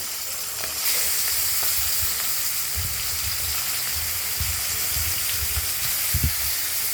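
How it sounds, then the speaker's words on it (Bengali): Tengra fish, each full of roe, fry in hot oil in a kadai with a steady, close sizzle and scattered crackles and pops. No one speaks. "মাছগুলো সব কটাই আমরা তেলে দিয়ে দিলাম এবং প্রত্যেকটি মাছই পেটে ডিম ভরা রেখে দিলাম।"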